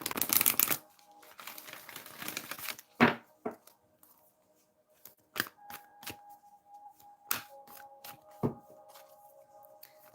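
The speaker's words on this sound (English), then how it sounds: "So let's pull the cards." Tarot cards are riffled in a dense papery burst, then drawn and slapped down in sharp separate clicks and flicks with quiet gaps between them.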